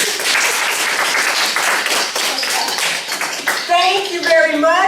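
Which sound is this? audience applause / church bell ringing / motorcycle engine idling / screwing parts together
audience applause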